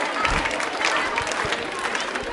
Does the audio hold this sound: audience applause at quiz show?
yes